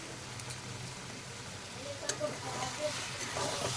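Tomato prawn curry is stirred in a pan over soft steady sizzling, with a few spoon scrapes and light taps against the pan, close and fairly quiet.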